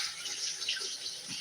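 Tap water runs steadily into a sink while a hand is rinsed, a soft continuous hiss and splash that is faint and has no talk over it.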